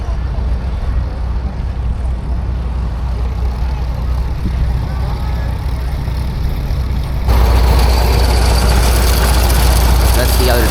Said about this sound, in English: there's a little steam engine and a big Frick steam engine